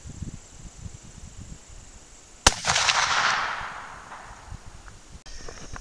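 .44 Magnum 200-grain load fired outdoors: one sharp, loud shot cracks out after a quiet stretch of insect chirping, followed by a long rolling echo that fades over a couple of seconds.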